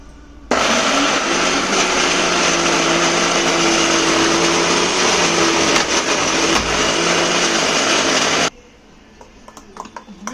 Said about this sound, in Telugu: ఇప్పుడు ఇవన్నీ కలిపి మిక్సీ పట్టాలి